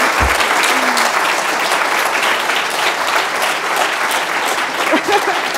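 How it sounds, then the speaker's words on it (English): An audience at a university faculty lecture on quantum computing applauds a lecturer with thick, continuous clapping, loud and steady throughout, with a brief low thump at the start and faint voices near the end. "let's give her a round of applause"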